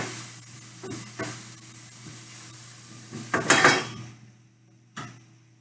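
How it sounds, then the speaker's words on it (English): Wooden fork scraping and knocking through chili mac in a pot, a few soft clatters and scrapes over a steady low hum, ending with a brief louder clunk. "Rotate everything, give it a good stir, and cover it up."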